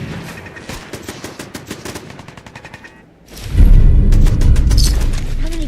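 Rapid gunfire from the video game Fallout 4, bursts of automatic shots crackling at a steady clip, a brief lull, then louder booming shots and rumbling impacts close and heavy.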